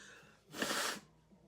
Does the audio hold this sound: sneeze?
yes